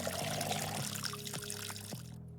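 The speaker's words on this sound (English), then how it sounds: "then we're supposed to fill up the watering can" Water pours steadily into a watering can in the video game Schedule I, a continuous trickle under a background music bed, cutting off near the end.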